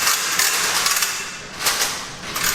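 Impact wrench with a 22 mm socket removing lug nuts during a brake pad and rotor service: a loud, steady hammering rattle that runs throughout, with brief surges in intensity.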